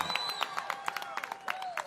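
Crowd applause at a live political campaign event in Los Angeles, a rising ovation of clapping and cheering with scattered sharp claps, while someone speaks over it.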